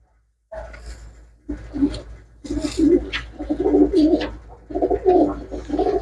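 Pigeons coo close by in repeated low, throaty bursts, several overlapping calls building after a brief quiet start.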